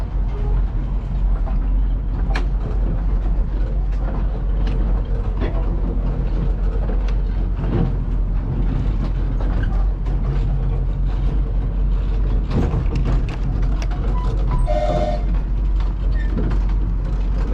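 Hayling seaside railway train pulling away from a stop, heard from inside a carriage cabin: a steady low rumble and mechanical clatter that runs throughout, with occasional knocks and a brief squeal near the end.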